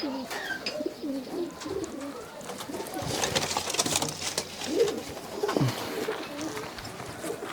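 A pair of prized doyash pigeons coos softly at a home loft in Kolkata. Low, faint coos rise here and there through a noisy background, with a brief burst of louder hiss midway.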